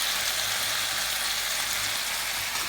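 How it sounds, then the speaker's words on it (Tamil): Crab thokku fries in oil in a pan, a steady, dense sizzle that stays even and close throughout with no talk over it. "கொஞ்சம் லேசாக கொஞ்சம் எண்ணெய் ஊற்றி வறுக்கலாம்"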